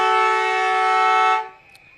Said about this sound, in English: The siren has sounded there for quarter time